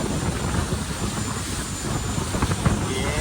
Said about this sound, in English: 360 horsepower of Ford turbo diesel power.